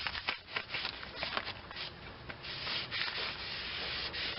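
A cloth rubs back and forth over a new brake rotor, wiping off oily anti-rust protectant with lacquer thinner, making a close, steady scrubbing and swishing sound.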